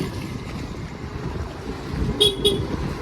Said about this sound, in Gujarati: મમ્મીને હોરન વગાડવા જોઈએ જ જોઈએ